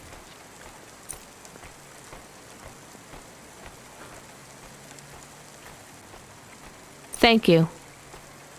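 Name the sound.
rain in the video game Cloudpunk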